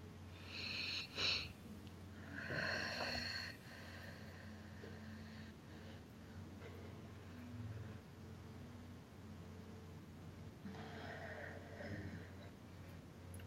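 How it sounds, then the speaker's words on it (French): Three slow, deep breaths, faint and airy, spaced well apart over a low steady background hum. "je vais vous demander de respirer 3 fois très très profondément"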